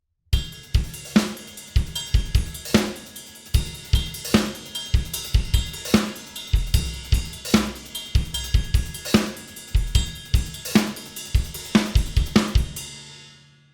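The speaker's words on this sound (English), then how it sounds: "It's a 16th bass pattern between the ride and hi-hat cymbals." Rock drum kit plays a steady groove with 16th notes split between ride and hi-hat cymbals, punctuated by punchy kick and snare hits, loud and close, with no voices.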